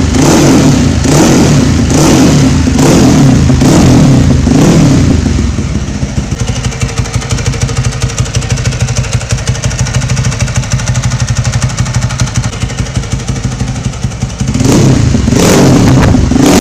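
A single-cylinder motorcycle engine derived from a Ducati 888, laid horizontally with a virtual connecting rod, 100 mm bore and 70 mm stroke, blips in loud pulsing revs, settles into a steady throbbing run, then revs hard again, very close.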